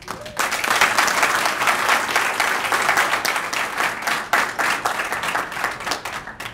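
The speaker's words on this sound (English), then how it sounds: "give him a round of applause" A press conference audience applauds, with steady, dense clapping from many hands that holds loud and unbroken for several seconds before trailing off slightly at the end.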